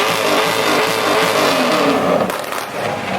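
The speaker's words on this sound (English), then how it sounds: "Do a burnout." A Jetta car revs its engine hard in a burnout during cruise week in Ocean City, Maryland, a loud sustained roar with a sharp crackling burst near the end.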